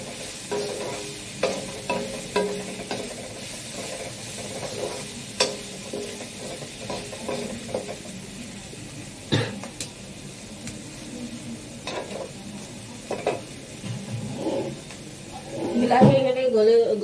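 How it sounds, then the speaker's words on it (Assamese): Tomatoes frying in a pan while being stirred, a steady sizzle punctuated by repeated scraping and clinking strokes of a utensil, with a person talking over it. "বিলাহীখিনি গলি যোৱালৈকে ভাজিম।"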